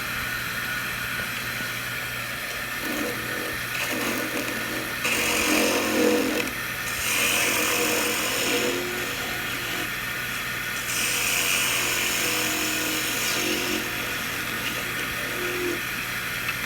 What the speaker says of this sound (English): now let's make the hole for the stem